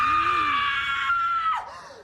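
An actress's character lets out a single loud, sustained shriek in the 2000 horror film Scream 3, the pitch rising slightly before breaking off with a short falling cry at the end, with no other voices.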